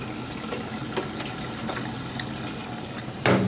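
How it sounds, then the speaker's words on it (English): Warm, rusty coolant water pouring out of a 1970 Ford Falcon engine block in a steady trickling splash, with a sharp clunk near the end. "So we'll let that steam and pour out of there."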